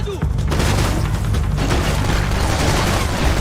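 Loud, dense AK-47 gunfire bursts fill the video game Max Payne 3, continuous and harsh with booming low end across the whole stretch.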